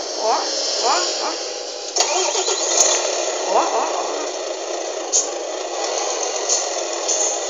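A truck engine in the game Euro Truck Simulator 2 cranks and turns over, then settles into a steady mechanical hum, with a person talking over it throughout.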